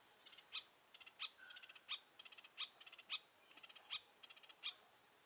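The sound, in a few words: Oustalet's tyrannulet call in Atlantic rainforest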